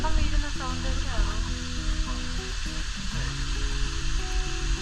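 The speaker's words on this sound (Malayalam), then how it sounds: "ഇവിടെ വെള്ളം വീഴുന്ന സൗണ്ട് എവിടെയാണോ" A waterfall in the hidden-gem Garo Hills area of WariChora, its steady broadband rush of falling water continuous and fairly loud throughout, layered under shifting tonal sounds.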